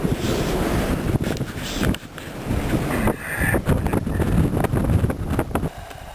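Strong gusty wind buffets the microphone with loud rumbling bursts that rise and drop, brief lulls between gusts.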